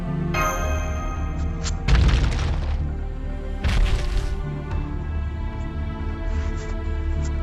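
In the Fate Grand Order video game, characters drop into a pitfall trap, landing as a couple of heavy, crashing thuds over a sustained musical tone, followed by lighter knocks as the music continues.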